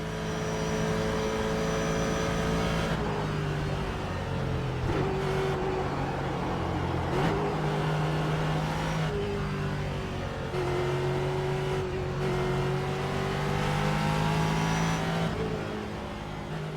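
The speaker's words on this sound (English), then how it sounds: "I also highly recommend taking a moment and appreciating the sound of this car." Ford GT race car at Le Mans in the iRacing sim: a continuous loud, droning exhaust note that rises through the gears with brief dips at each shift, steady and close with no talk.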